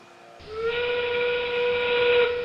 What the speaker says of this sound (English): That whistle means we've got 30 seconds remaining in the match.